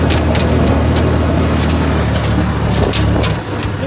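Tractor driving and towing a car, a loud steady engine rumble close by with rattling and clattering over it, easing slightly near the end.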